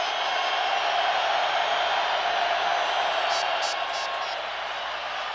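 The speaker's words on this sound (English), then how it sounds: "Here's the crowd." A packed football stadium crowd at a 1985 Bears versus Dolphins game roars steadily, a dense, unbroken wall of cheering and noise with faint whistles near the end.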